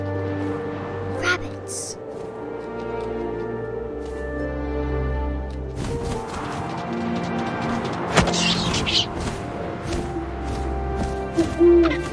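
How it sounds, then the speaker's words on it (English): Owl hoots in the video game What Remains of Edith Finch, rising over a steady tonal background with occasional soft thuds and a brief crash. "And suddenly, I was an owl."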